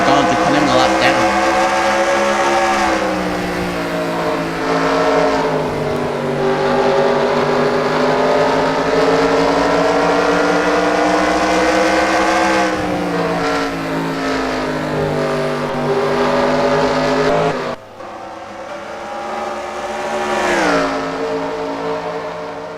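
Stock cars in a NASCAR Racing 2003 cup series race at the Toyota Owners 400 howl continuously, engine pitch rising and falling through the laps, with a brief cut and swell of a car passing close while a commentator talks over the noise.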